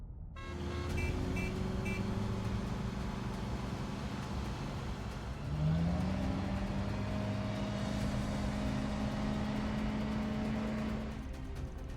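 Cars in the video game The Vestiges speed up together and weave through traffic. Engines hum steadily and close by, their tones swelling and shifting upward partway through before settling into a sustained whine.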